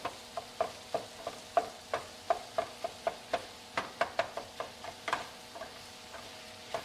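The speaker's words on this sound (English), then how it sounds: "give that onion a quick stir and get it mixed in real good with this pork" Onion stirred into pork in a pan, a steady run of crisp, evenly spaced scrapes and taps of a spoon against the pan over a faint sizzle, close up with no voices.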